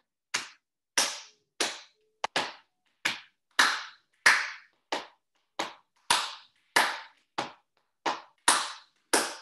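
Hand jive dance routine of flat-handed slaps and claps, sixteen crisp separate smacks in a steady, even rhythm, close and loud, with no voices.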